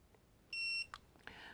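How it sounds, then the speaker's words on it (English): A TST 507 Series wide screen display gives one steady electronic beep, about a third of a second long, as its set button is held down, followed by faint clicks and soft room noise. "hold the set button down until it beeps"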